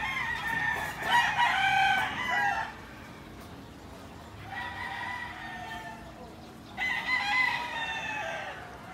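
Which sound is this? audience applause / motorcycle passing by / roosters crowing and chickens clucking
roosters crowing and chickens clucking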